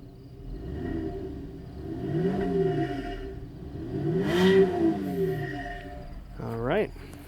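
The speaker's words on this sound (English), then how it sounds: "Getting a quick exhaust note here as we rev up the Acadia." A 2010 GMC Acadia SLE AWD idles and is revved twice, the exhaust note rising and falling in swelling sweeps, with a sharper quick blip near the end.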